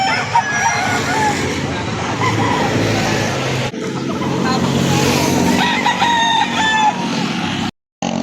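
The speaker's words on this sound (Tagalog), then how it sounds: "So ito mga kamanok, bagong dating." Newly arrived chickens and roosters at a livestock market in Victoria, Laguna, with roosters crowing repeatedly and hens clucking close by, amid busy market noise and a passing vehicle, ending in a brief dropout.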